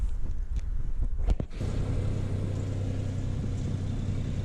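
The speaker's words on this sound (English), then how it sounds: "They're prepping the track. They got this big tractor and this thing they pull behind it that flattens out any of the divots" A big tractor drags a leveling drag over a greyhound racing track built in the 1930s. After a few thumps, a steady low engine rumble runs throughout at moderate distance.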